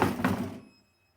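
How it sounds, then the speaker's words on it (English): A single dull thud from a kitchen, heard alone and close, with a short boomy decay that fades into silence. "the peace and quiet was interrupted by a thud from the kitchen"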